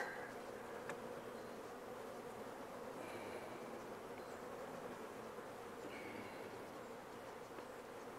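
Honeybees droning steadily around an open hive during a beekeeping inspection, a dense continuous buzz of many insects at close range with no voices.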